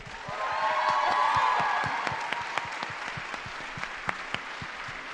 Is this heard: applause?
yes